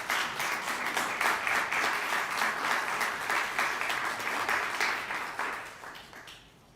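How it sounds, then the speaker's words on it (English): An audience at a community college students' award ceremony applauds loudly and steadily for several seconds, the clapping dense and sustained before tapering off at the end. "give the minister a bigger round of applause."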